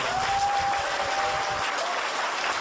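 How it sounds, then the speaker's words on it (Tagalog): An audience claps in steady, dense applause, loud and sustained throughout with no break, with a faint voice barely audible underneath. "palakpakan po natin ang isa"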